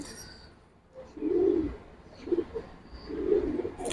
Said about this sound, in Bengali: কালো গলা লাইনের কবুতর দেখাবো এই যে মাদিটা দেখেন